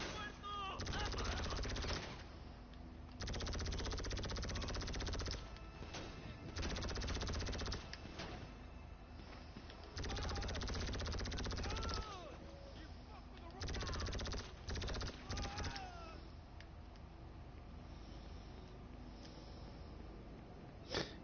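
A laser gun firing in GTA 5, with long loud bursts of rapid repeated shots broken by short pauses and occasional voices underneath.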